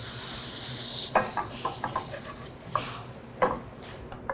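A spoon scrapes and clinks through caramelized onions in a pan as red wine vinegar is stirred in, a few distinct strokes over a soft continuous sizzle, close and unaccompanied by voices.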